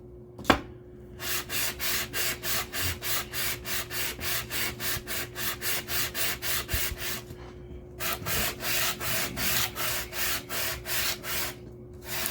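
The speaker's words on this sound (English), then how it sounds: "when I'm pushing back and forth to the sandpaper, it's actually doing like a little wave effect" Steady back-and-forth rasping as an Optimus water block is lapped on sandpaper, rhythmic scraping strokes in two long runs separated by a short pause, close and clear with a faint hum beneath.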